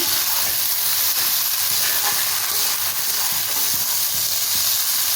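Chowmein noodles stir-fried with vegetables in a hot pan for a Bengali-style chicken chowmein, giving a steady, loud sizzle and hiss with scraping stirs throughout.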